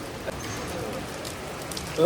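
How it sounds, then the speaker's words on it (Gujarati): Heavy rain during flooding in Surat falls as a soft, even hiss at moderate distance, with a short louder sound near the end. "બહુ વરસાદ પડે છે માલિક, બહુ વરસાદ"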